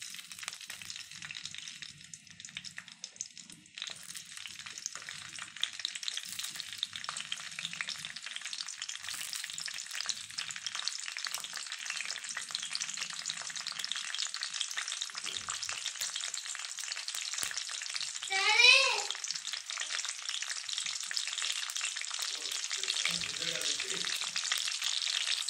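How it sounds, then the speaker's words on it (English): Green chillies fry in hot oil, a continuous steady sizzle with occasional stirring, heard alone and fairly close throughout. "Heat the oil, then add green mirchi to the oil."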